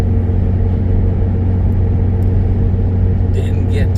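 Steady engine drone and low rumble from a 2010 Toyota Yaris with a 1.5 liter engine, heard from inside while driving on the road in traffic, constant and fairly loud throughout.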